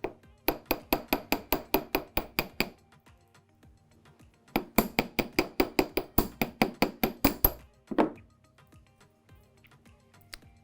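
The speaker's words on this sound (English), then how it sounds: "then hammer it this way as well, just so it keeps its shape" A wire hoop is gently hammered during jewelry making: two bursts of quick, regular light metallic taps, close by, with a quiet gap between them and a single louder knock near the end.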